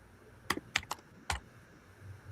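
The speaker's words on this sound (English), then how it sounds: "I hear his ass typing." Brief keyboard typing heard from a distance during an online call: a few scattered clicks and key taps over a quiet background.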